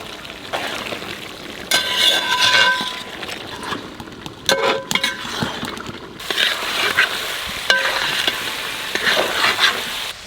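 Duck meat with papaya stirred and frying in a pan, with a steady loud sizzle broken by metal spatula scrapes and clinks against the pan.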